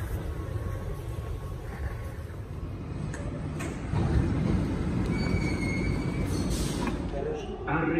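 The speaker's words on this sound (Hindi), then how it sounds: "और अभी मेट्रो स्टार्ट हुआ है" A Dubai metro train runs along the track with a steady low rumble and rushing noise, swelling slightly midway, with faint squeals and clatter over it, heard from inside the carriage.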